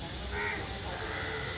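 A large flock of crows caws from a tree, harsh overlapping calls that are loud and steady in a brief burst with no talking.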